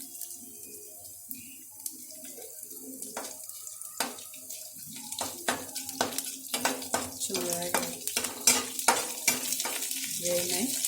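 Ingredients for beerakaya pachadi frying in a pan, a soft sizzle that grows busier as stirring scrapes and clicks come in quick irregular bursts, close and without talk.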